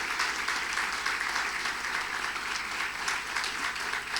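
Audience applause at a lecture in Argentina, dense continuous clapping from a large crowd, even and sustained throughout.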